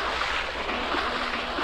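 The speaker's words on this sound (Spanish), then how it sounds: "¡Qué sonido tan profesional del agua," Water washes and rushes continuously in a video game, a broad, even surf-like wash of noise with no voices over it.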